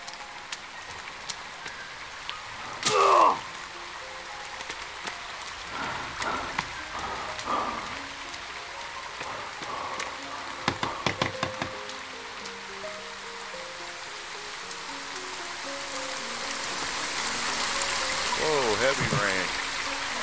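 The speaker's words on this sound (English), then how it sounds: "Big old fat rain." Heavy rain falls steadily in The Forest survival video game, a continuous wash that swells louder toward the end, with a few brief clicks and a voice speaking over it.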